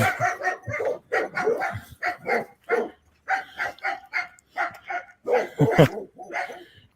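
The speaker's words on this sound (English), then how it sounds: "it was probably the same type of dogs barking" Several dogs bark in an alley in a long run of loud, close, harmonic barks in quick bursts with short gaps, with no talk over them.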